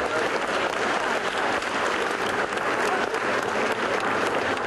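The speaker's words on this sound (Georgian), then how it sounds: "ალბერ მეორეს დარბაზში ოვაციები ჩაფნეს." A theatre audience gives an ovation for Prince Albert II of Monaco at a modern musical in Georgia, with dense, steady applause from a large crowd throughout, loud and sustained.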